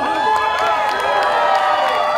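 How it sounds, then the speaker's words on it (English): A live wrestling crowd cheers and shouts loudly after a dive through the ropes, a dense sustained roar of many voices with a few higher whoops throughout. "Crowd's loving it."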